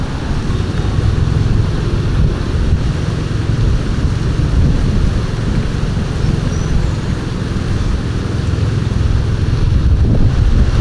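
Strong wind blows at the seashore on Siquijor island in the Philippines. A loud, continuous roar buffets the microphone without pause, with a low rumbling undertone and no voices.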